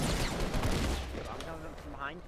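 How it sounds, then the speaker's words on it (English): Fortnite gunfire during a duos shotguns-only match, a dense burst of shots and impacts heard close, mixed with excited shouting from players. "I'm getting shot at!"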